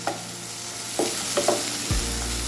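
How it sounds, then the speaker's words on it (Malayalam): Tomatoes fry and are stirred in a pan for a Kerala-style curry made with rice water: a steady close sizzle with a few sharp scraping stir strokes and a louder burst near the end. "നമുക്ക് തക്കാളി ഇട്ട് കൊടുക്കാം തക്കാളി നല്ലോണം വെന്തിട്ട് നല്ല പേസ്റ്റ് പോലെ ആവണം"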